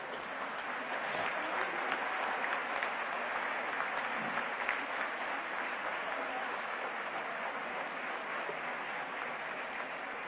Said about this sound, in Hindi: आप सभी कृपया अपने अपने स्थानों पर खड़े होकर जोरदार तालियां